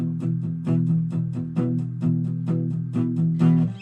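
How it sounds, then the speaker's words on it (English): Tight, chugging heavy-metal palm-muted, down-picked electric guitar notes in a fast, driving rhythm, loud and upfront with no voices. "heavy metal palm muting, down picking"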